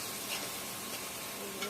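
Browned onions sizzle in hot oil in a pan as salt is added and a utensil stirs them. Soft scraping strokes sit over a continuous close frying hiss, with no talking.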